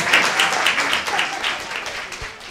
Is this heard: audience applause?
yes